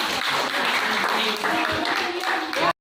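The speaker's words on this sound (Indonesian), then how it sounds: "Tepuk tangan buat yang Irfan." A classroom group applauds for a student named Irfan during a teacher's coaching session, giving steady, dense clapping that holds at an even level for a few seconds, then cuts off abruptly.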